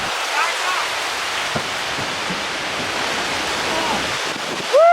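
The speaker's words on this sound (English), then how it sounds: "Wow, look at the rain!" Heavy rain pours steadily outside a porch, a dense broadband hiss that holds at an even level for the whole stretch, with no voices over it.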